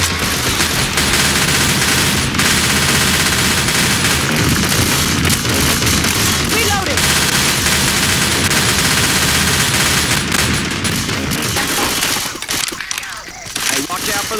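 Rapid, loud automatic gunfire fills the Left 4 Dead 2 zombie shootout, sustained bursts and booms running almost without a break, with a brief lull near the end and game voices mixed in underneath.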